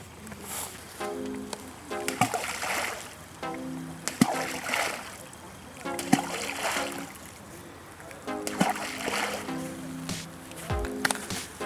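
Balls of fishing groundbait are thrown into water, making repeated splashes and watery plops at irregular intervals over a running, bubbling background, with no talking.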